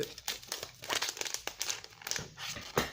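Plastic packaging is opened at close range, with quick crinkles, crackles and small tearing sounds coming in uneven bursts.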